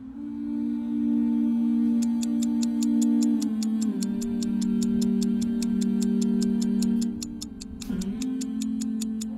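A clock ticks at night, a steady even series of sharp ticks over a sustained tonal music bed with a brief swell near the end.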